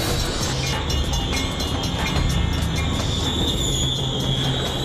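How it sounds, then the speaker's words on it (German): A train rolls through Los Angeles, its wheels grinding steadily on the rails with a faint high squeal above the continuous low rumble, loud and close throughout. "Ein Zug rollt durch Los Angeles."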